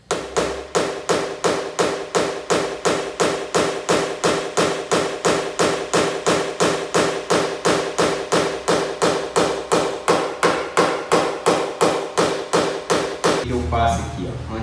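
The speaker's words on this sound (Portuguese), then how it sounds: "agora eu venho com o martelo" A small hammer taps a car body panel during paintless dent repair, striking at a fast, steady, even rhythm of about three blows a second throughout, loud and close, ending with a brief clatter.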